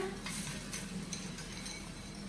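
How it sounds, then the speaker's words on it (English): Frozen corn added to browned potatoes in a pan, heard as a short burst of sizzling with spoon stirring and light clinks against the pan, moderately quiet and continuous. "Now that my potatoes have browned, you add in your corn."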